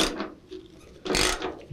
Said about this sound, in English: You can hear the metal snapping just a little bit now that it's being compressed tightly.